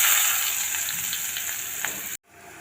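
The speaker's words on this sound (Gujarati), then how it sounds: "તો હવે ડુંગળીને આપણે નાખી દઈશું." Onions drop into hot oil already seasoned with asafoetida and fry with a steady, loud, close sizzle, then the sound cuts off abruptly near the end before a fainter hiss returns.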